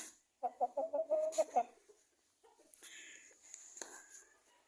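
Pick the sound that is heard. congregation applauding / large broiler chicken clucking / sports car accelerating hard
large broiler chicken clucking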